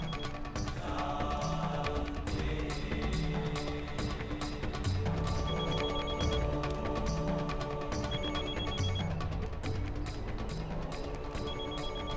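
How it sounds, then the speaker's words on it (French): A mobile phone rings during prayer, its electronic ringtone repeating in a steady pattern of bright tones that persists loudly and continuously, with no one talking over it. "N'aurait-il pas pu au moins éteindre son téléphone pendant la prière?"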